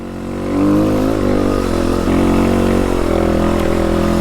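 A dirt bike engine, loud and close, revs in rising and falling surges for the whole stretch, a steady throaty drone with no speech over it.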